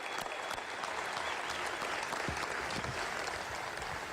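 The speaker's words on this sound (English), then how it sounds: "let's have a round of applause for our band and spirit squad" A crowd applauds for a school band and spirit squad before a press conference, a steady dense wash of clapping from a large audience sustained throughout without talk.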